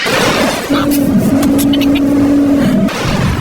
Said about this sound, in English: There's just something so masculine about driving overpriced, loud cars On a private racetrack.